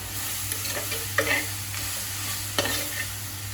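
Sliced onions sizzle steadily in a hot pan while a spoon scrapes and stirs them, with a couple of sharper clacks against the pan, close and continuous.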